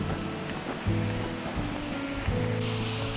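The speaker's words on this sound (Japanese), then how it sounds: "ここにまあ滝ありますね。" Water spilling down a small artificial waterfall beside a mountain hiking path, a steady close rushing wash with a few louder surges, heard alone.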